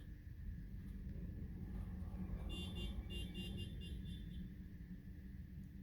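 A car horn beeps in a short burst of several quick repeated toots somewhat distant on a street, over a steady low traffic rumble.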